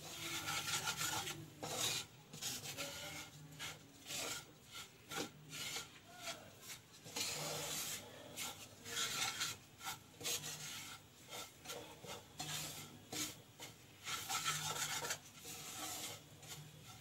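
Filling for a Mughlai paratha being stirred and mixed in a bowl, with a steady scraping, rubbing rasp in repeated strokes, close and fairly loud, with no talking.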